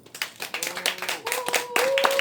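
Scattered clapping builds into applause for local residents defending a century-old forest, moderately loud, with a sustained tone and faint voices mixed in.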